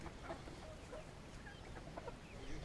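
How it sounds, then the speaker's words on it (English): Barn-hatched chicks on a Montana farm cluck and peep softly and faintly, with scattered small calls over a steady low background noise and no one talking. "Barn hatched chicks."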